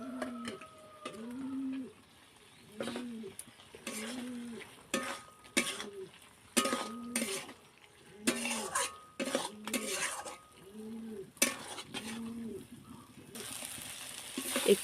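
Pointed gourd pieces, already fried, being stirred into a cooked-down spice masala in a pan, with repeated scraping and clattering strokes of a spoon against the metal at an uneven rhythm, close and fairly clear; birds call faintly in the background.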